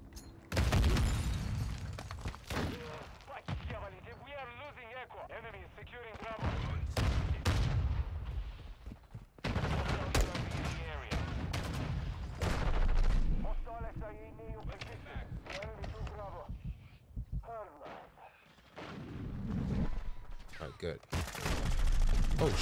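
Gunfire in Call of Duty: Modern Warfare II, with repeated bursts and single shots scattered throughout amid game sounds, while a player talks over parts of the action.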